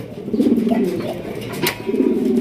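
Danish pigeons coo repeatedly in low, throaty rolls, close by and fairly loud, with faint background chatter.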